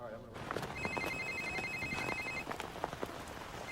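A telephone rings in a comedy-romance film scene, repeated electronic trills in a steady pattern, fairly faint under a noisy patter-like background with speech mixed in.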